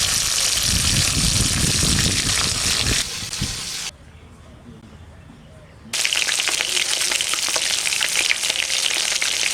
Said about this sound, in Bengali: মাছ আমাকে লাল লাল ভাজা হয়ে গেছে এখন মাছ আমি তুলে নেবো